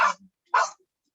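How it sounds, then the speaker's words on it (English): Dogs bark twice, two short, sharp barks about half a second apart, close by and fairly quiet, with silence around them. "I have dogs with me and they are making a noise"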